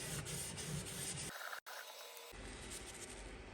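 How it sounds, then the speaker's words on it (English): A steel chisel's back being flattened on a Tormek T8 sharpener, giving a steady close rasping grind that stops briefly and then resumes. "to flatten the back of the chisel"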